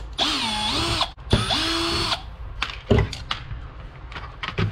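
A power drill whines in two sustained bursts, its pitch rising and dipping as it undoes the front screws of a Traxxas Bandit RC car, followed by clicks and handling clatter close by.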